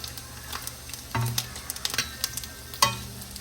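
Snacks frying in a pan of oil in a home kitchen, giving off a steady crackling sizzle with sharper pops scattered throughout and no talking.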